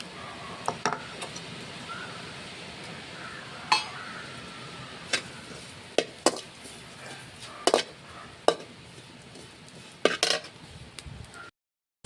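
Grated coconut roasting in a pan, with a low dry rustle of stirring broken by sharp intermittent scrapes and clinks of a spatula against metal, fairly close and irregular, with no talk.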